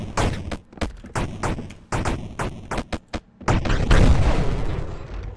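Gunfire in the video game Karlson: a rapid series of sharp, loud shots in bursts with short gaps, followed by a denser, rumbling stretch near the end.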